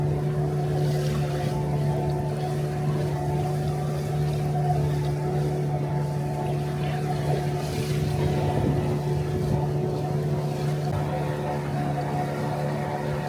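A tour boat's engine drones steadily on the river at the North Korean border, a loud continuous low hum with constant tonal bands and water wash throughout, with no talk.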